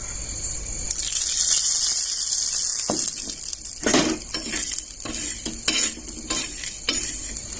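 Peanuts fried in a little oil are stirred in a pan, a steady close sizzle broken by irregular scraping and clinking strokes of a spoon against the metal.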